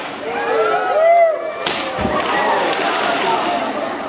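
Porpoise splashing in a pool during a show at the Vancouver aquarium: one short, sharp splash cuts through a bed of crowd murmur and high whistling tones.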